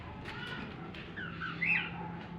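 Cockatiel squawks, a white-face saddle V-back or heavy pied bird, sounding in a few shrill, rising calls over low background hum and faint handling noise.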